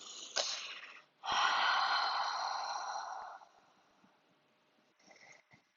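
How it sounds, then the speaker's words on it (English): A cleansing breath during a chair yoga class: a short sniff, then a long, audible exhale that fades out, followed by softer breaths, close and alone with no talking. "Inhale through the nose, exhale through the mouth,"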